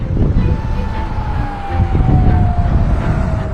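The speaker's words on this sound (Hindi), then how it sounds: "पूरे देश भर में सायरन्स बजने शुरू हो गए थे।" A warning siren wails steadily in the distance during an Iranian missile attack on Israel, its long tone drifting slightly downward over a dense rumble of low background noise.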